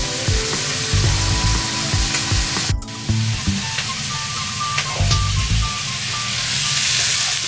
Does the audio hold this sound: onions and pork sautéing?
yes